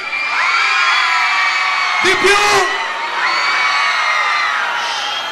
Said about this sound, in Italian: se fate un urlo grande